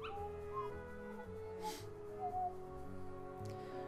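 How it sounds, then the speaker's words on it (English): Puppies in the Kingdom Hearts video game whimper and yip, several thin high whines and small yelps over a soft, steady game music bed, fairly quiet. "So many pups. Look at all those pups."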